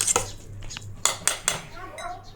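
A spoon stirs salted poha dosa batter in a bowl, giving a handful of light, close metallic clinks and taps against the bowl at an uneven pace, with quiet kitchen ambience between strikes.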